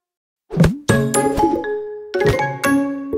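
A bright ding-dong chime rings twice after a short silence, each pair of clear bell-like tones ringing out and decaying, with small percussive clinks between them.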